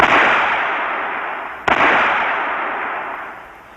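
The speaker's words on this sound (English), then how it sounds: "2 shots are plenty, von Reichenau says" Two sharp gunshots from a 1978 television drama, the first at the start and the second about halfway through, each a loud crack trailing into a long hissing echo with no voices.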